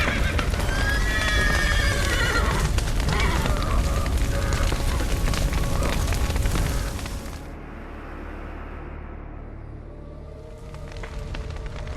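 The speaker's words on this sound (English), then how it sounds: "The horses!" Horses in The Witcher 3 neigh and whinny loudly with clip-clopping hooves amid a busy, rumbling game scene, then the din drops to a quieter hum before rising again.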